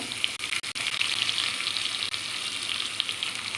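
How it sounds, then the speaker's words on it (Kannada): Chopped onion spluttering in hot oil for a tempering, a dense, steady crackling sizzle with a few sharp pops, loud and close with no voices. "ಸ್ವಲ್ಪ ಚಟಪಟ ಆಗಲಿ"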